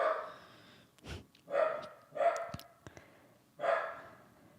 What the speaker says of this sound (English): you just hear my dog just going crazy